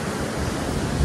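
Surf rolls in at Arambol beach in Goa, a broad roaring wash of waves mixed with wind buffeting the microphone, close and loud with no voices.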